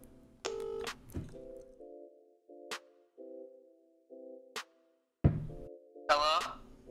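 Telephone touch-tone dialing during a prank call, a quick run of keypad beeps followed by repeated steady ringback tones, with brief voices at the start and a louder voice near the end.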